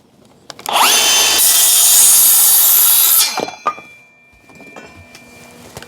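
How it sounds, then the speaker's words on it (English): A small handheld power saw whines loudly through timber firring pieces for a roof, a sustained cut of about two seconds that stops abruptly, followed by a couple of knocks and quiet workshop noise. "We'll knock that off quickly with the saw."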